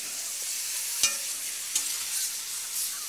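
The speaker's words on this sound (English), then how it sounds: "We'll whisk in a little knob of butter." Butter being whisked into a stock sauce in a pan alongside grapes for a Swedish fish dish: a steady soft sizzling hiss with two sharp clinks of the whisk against the pan, no talking.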